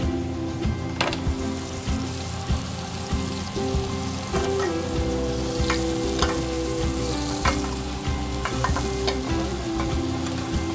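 Pre-cooked bacon frying in a pan for a seared scallop dish, a steady loud sizzle with crackling pops and occasional stirring scrapes; no talk.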